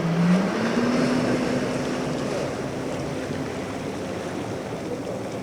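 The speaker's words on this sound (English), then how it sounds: "Australia's first electric jet ski." An electric jet ski runs across open water with no engine note, just a steady wash of spray and waves, a faint low hum rising early on, and wind throughout.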